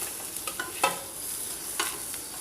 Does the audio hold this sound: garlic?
yes